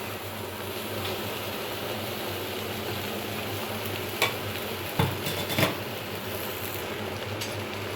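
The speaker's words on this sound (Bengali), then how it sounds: "এবার কড়াইতে দিয়ে দেব যে দুন্দুলগুলো কেটে নিয়েছিলাম সেগুলো সব কড়াইয়ের ভিতরে দিয়ে দেব" Sliced ridge gourd sizzles steadily in a hot wok as it is stir-fried for a prawn and ridge gourd dish, with a few sharp spatula scrapes near the middle over a low background hum.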